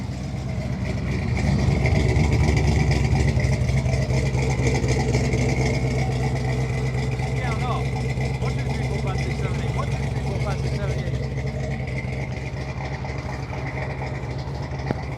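A 1986 Chevrolet C10 small-block V8 truck engine idles with a steady, rumbling low throb that stays even throughout, with no other sounds over it.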